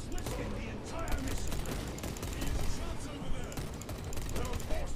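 Sustained gunfire in the video game Space Marine 2, a dense continuous rattle of rapid shots with mechanical clanks layered over a busy battle din.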